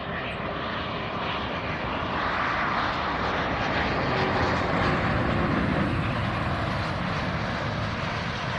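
A Gulfstream private jet landing on runway 16 right at Van Nuys Airport, its broad engine roar loud and continuous throughout, with no talk over it.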